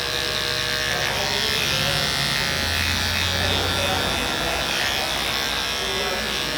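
Close, loud and steady, a barber's detachable-blade electric hair clipper buzzes continuously through a mid bald fade haircut.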